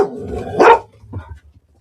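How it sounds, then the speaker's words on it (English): A pet dog at home barks a few times at the television, one loud sharp bark followed by fainter, softer yelps, close by with no talk over it. "My dog's making noise."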